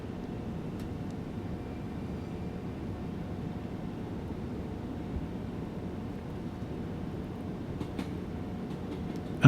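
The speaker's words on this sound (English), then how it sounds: "The train just happened to be here when we arrived." A train in Train Sim World 3 rumbles along at a steady, fairly quiet level, with a low continuous rolling drone, a faint tonal hum and a few light clicks and knocks near the end.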